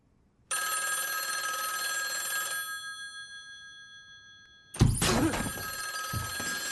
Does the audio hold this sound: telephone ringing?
yes